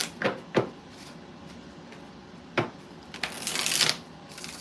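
Tarot cards shuffled by hand in short riffling bursts, a few quick crisp flurries with pauses between and a longer rustling run near the end, close and fairly quiet.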